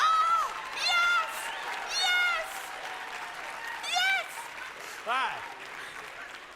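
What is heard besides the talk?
audience clapping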